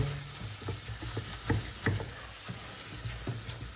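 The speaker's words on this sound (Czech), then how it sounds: "Tak se to pěkně do toho zarestuje." Beef browns in a hot pan with a steady sizzle and frying crackle, plus a few scraping stir strokes against the pan bottom, close and moderately quiet with no voices.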